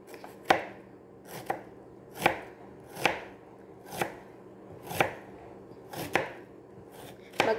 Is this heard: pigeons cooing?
no